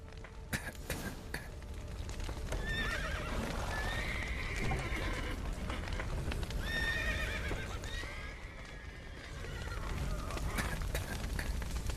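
Horses whinny and neigh several times in the video game The Witcher 3: Wild Hunt, over a busy background of hoofbeats and scuffling, loud and close, with the calls rising and falling.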